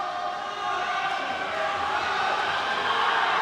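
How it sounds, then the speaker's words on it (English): Spectators cheering at a boys' high school swim meet as swimmers race neck and neck into the final length: a sustained, echoing crowd roar in an indoor pool, rising slightly toward the end. "You can hear the crowd going crazy."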